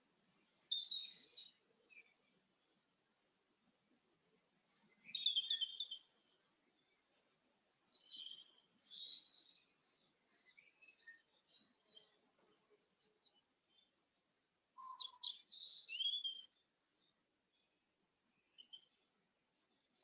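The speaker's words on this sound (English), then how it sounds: "You may hear the birds in the background here" Faint, distant birds chirping in short bursts of high tweets, separated by quiet gaps.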